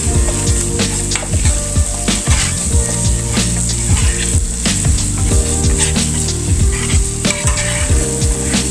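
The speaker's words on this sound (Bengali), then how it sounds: "এক মিনিটের মতো কষিয়ে নিচ্ছি, নাড়াচাড়া দিয়ে মিশিয়ে নিচ্ছি" Mustard paste for hilsa fish being fried and stirred in a pan, with a loud, close sizzle under repeated scraping strokes of a spoon against the pan, no voices.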